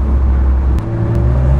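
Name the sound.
Morgan Plus Six engine and exhaust with valves opened in Sport Plus mode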